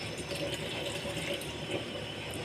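Water poured steadily into a pan of jaggery while cooking moong dal payasam, a continuous close splashing trickle at low volume with no speech.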